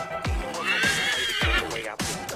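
A horse neighing in the Assassin's Creed III video game, a loud, close whinny with a rising squeal, bracketed by repeated deep thumping hits and no talk.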